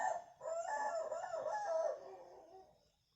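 A rooster crows once, a clear, fairly close cock-a-doodle-doo with a rising then drawn-out tail that fades away, heard alone without talk.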